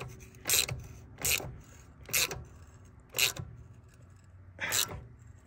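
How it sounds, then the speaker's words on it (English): A ratchet wrench tightens parts on a sports sedan in five separate bursts of rapid clicking, each about half a second long, close up against a faint background hum. "it's so satisfying wrenching on this thing"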